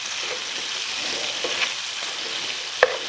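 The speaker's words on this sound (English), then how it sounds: "So let's get these onions sauteed around a little bit." Onions sautéing in a pan for liver and onions with gravy, a steady close sizzle with soft scraping stirs and one sharp clink of a utensil near the end, no voices.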